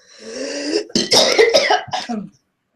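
Several harsh coughs in quick succession, close and loud, with a raspy throat-clearing quality, then silence.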